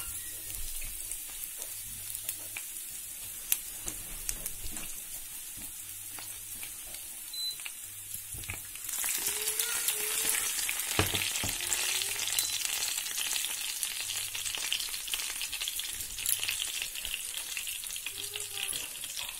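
Ginger dropped into a pan of frying lemon rice, a steady close sizzle that grows louder and brighter partway through, with scraping stirs and light clinks, no talk.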